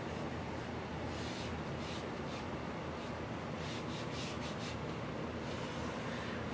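Painter's tape being rubbed down over painted furniture during a buffalo plaid paint job gives a steady, close, continuous scratchy rubbing with no pauses and no talk.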